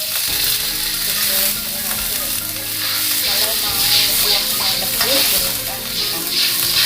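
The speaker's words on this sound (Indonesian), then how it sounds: "Bawang putih dan jahe tumis harum, masukkan air." Garlic and ginger sizzle and crackle steadily while frying in a little oil in a pan, with stirring noises throughout at a close, even loudness.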